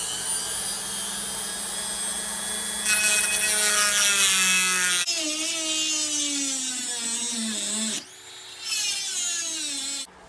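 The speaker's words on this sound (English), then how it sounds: "I'm just going to use a rotary tool here with a little cutoff wheel." A small rotary tool fitted with a cutoff wheel cuts through a threaded metal hinge pin from a Traxxas Sledge RC truck. Its high whine shifts pitch as the wheel bites and eases off, loud and close, with a brief pause near the end.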